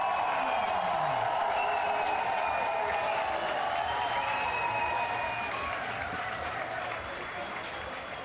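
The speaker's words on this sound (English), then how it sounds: "I love how the audience is just cheering on their countries and supporting for all." A large audience at an international competition cheers and applauds continuously, a dense roar of clapping and shouting that stays loud throughout with a voice over it, easing slightly at the end.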